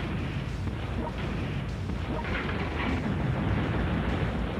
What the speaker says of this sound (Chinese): 我们一直用这个大炮